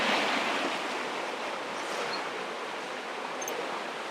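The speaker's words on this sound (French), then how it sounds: "On ne bloque pas l'eau puisqu'elle passe." Water pouring over a mill weir on a river, a continuous broad rushing wash heard fairly close and steady throughout.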